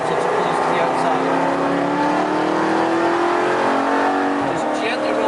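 A Jaguar XE Project 8 on the Silverstone circuit accelerates with a loud, continuous engine note that rises steadily in pitch inside the cabin, while a voice speaks over it.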